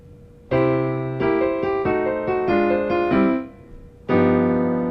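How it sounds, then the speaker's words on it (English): Piano chords played in a lilting triplet rhythm over a steady bass, a few bright phrases with a brief pause before a final sustained chord. "Variation 2 adds 8th note triplets and sounds like this."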